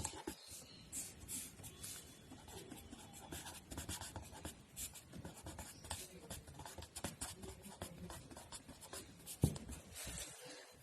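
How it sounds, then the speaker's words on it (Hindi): A name is written by hand on a board, producing a run of quiet, dense scratchy strokes with short pauses and small taps, fairly faint and close, without speech over it. "मैं हिंदी में भी नाम लिख देती हूं"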